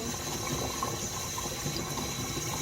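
Water runs from a kitchen tap in a steady, quiet rush, continuous and fairly faint throughout with no talking.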